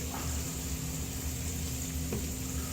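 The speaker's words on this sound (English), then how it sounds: "I am just going to sear both sides of these patties" Steady, even sizzle of burger patties searing in a hot pan, a constant close frying hiss with a faint hum beneath and one small tap near the end, no talking.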